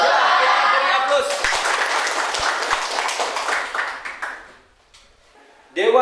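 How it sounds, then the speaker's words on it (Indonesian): A classroom erupts in applause for a student's correct answer, a dense burst of many hands clapping that fades out after about four seconds, followed by near silence and a brief sound at the end. "Ya, kita beri aplaus."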